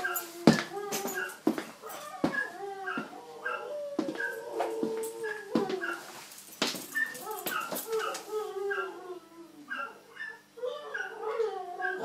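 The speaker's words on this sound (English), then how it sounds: "my dogs are just singing" Two pet dogs whine, yip and howl in wavering, tuneful cries as if singing along to piano music, their voices overlapping close by in a steady run of calls.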